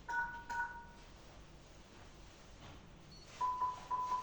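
An Accentronix access control unit's keypad sounds two short pairs of dialing tones, faint and close, separated by a quiet gap with no talking.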